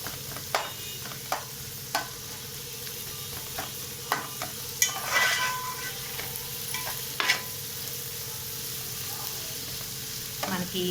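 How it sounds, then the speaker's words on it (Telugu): Onions fry for a korameenu fish curry, a steady sizzle in the pan broken by sharp clicks and scrapes of a spoon stirring at irregular intervals, with no talk. "బాగా మిక్స్ చేసుకోవాలండి. బాగా ఫ్రై అవ్వనివ్వాలి ఉల్లిపాయ"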